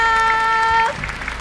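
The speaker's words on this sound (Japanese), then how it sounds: "大きな拍手お願いいたします" Audience applause after a special talk at the Osaka-Kansai Expo, a dense wash of clapping from a crowd that carries on steadily, with a sustained tone fading out partway through.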